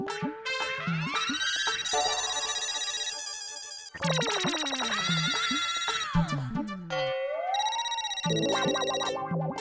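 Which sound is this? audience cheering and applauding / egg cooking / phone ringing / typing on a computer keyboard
phone ringing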